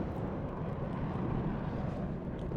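An F-15 Eagle fighter jet in the war game WARNO gives a continuous, broad low roar that holds steady and fairly loud for the whole stretch, with no voices over it.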